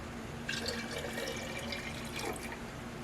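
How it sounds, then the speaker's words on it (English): Water poured from a tap into a container of tomato seeds, a steady splashing fill that runs for a couple of seconds at moderate volume in a quiet room. "we're going to add more water to this"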